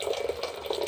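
Hot water is poured into a cooking pot of salted base for red rice, a brief, faint, steady trickle and splash with no talking.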